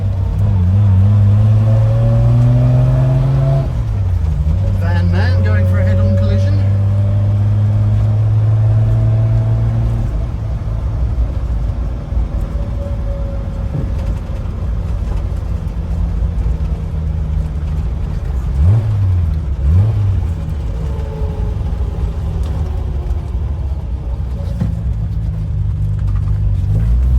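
Triumph Vitesse car driving on the road, a steady loud engine drone with rising and falling pitch as it accelerates and shifts, continuous close rumble throughout with no talk.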